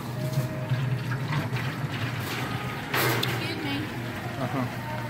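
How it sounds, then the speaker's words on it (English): Steady rushing water from a large faucet filling a container, with a busy crowd murmuring and talking throughout. "And start filling. Nice big faucet."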